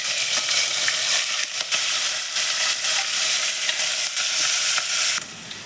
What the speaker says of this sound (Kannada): ಉದ್ದುದ್ದು ಕಟ್ ಮಾಡ್ಕೊಂಡಿರೋ ಈರುಳ್ಳಿ ಮತ್ತು ಹಸಿಮೆಣಸಿನ್ಕಾಯಿ ಹಾಕೋತಾ ಇದ್ದೀನಿ